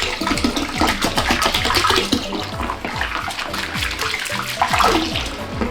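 Dark beer wort from a brew-in-a-bag brew day pouring into a fermenter, a continuous close splashing and gurgling stream of liquid with no talk.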